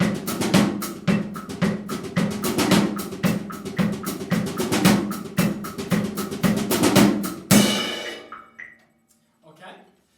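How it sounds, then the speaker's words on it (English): Drum kit with the snare playing steady sixteenth notes, louder accents pushing toward the end of each bar, crisp and close, ending in a crash that rings out and fades to near silence. "my snare drum goes in a dynamic way, just 16th notes"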